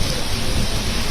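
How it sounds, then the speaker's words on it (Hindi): Heavy rain pours steadily during a thunderstorm with strong, dusty gale winds over Delhi NCR, a dense, continuous roar that stays loud and unbroken throughout with no voices. "तेज आंधी, धूल भरी आंधी"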